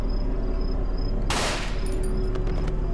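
A single loud gunshot burst in the horror game Cry of Fear as an enemy is shot, cutting sharply through a steady humming ambience and then fading quickly.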